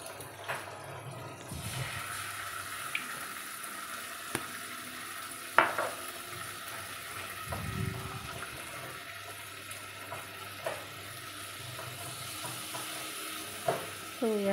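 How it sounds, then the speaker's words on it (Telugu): Vegetable manchurian is tossed in a pan with green chilli, soy and tomato sauces, giving a soft sizzle under light stirring, scraping and occasional clinks, faint and close. "ఇవన్నీ వేసుకొని ఒకసారి బాగా టాస్ చేసుకోవాలి"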